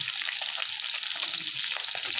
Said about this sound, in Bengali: এই মাছ ভাজা অলরেডি শুরু হয়ে গেছে,